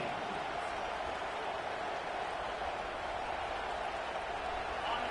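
A home stadium crowd roars at a Texas A&M versus USC college football game on third down, a broad, sustained wall of noise with a commentator talking over it.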